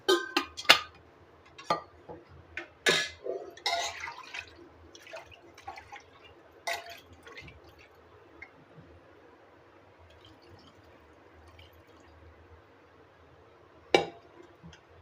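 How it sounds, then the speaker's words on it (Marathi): Water poured into a pressure cooker while making a spicy Konkani-style black gram curry, with scattered metallic clinks and drips around a brief splashing pour, close and fairly quiet. "आपल्याला किती आमटी पाहिजे त्याप्रमाणे पाणी ओतू शकतो"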